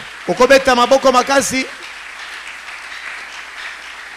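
A church congregation applauds and acclaims Jesus, a loud wash of clapping that carries on steadily after a voice speaks over the first second and a half.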